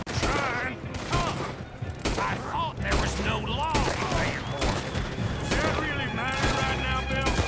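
A gunfight in Red Dead Redemption 2: rapid, overlapping gunshots crack continuously at close range against a busy, dense backdrop, with occasional heavier blasts and voices mixed in.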